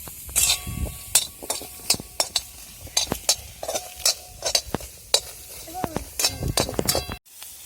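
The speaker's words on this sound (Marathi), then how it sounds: "तर आता कवितान कांदा बी परतायला टाकलेला आहे" Onion sautéing in a kadhai, heard as sharp, irregular spatula scrapes and metallic clinks over a soft sizzle, with a voice briefly in the background.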